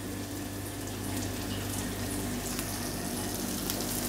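Chicken stock pours into a hot pan of Mongolian chicken, giving a steady, loud rushing splash with sizzling underneath. It runs continuously and close with no speech.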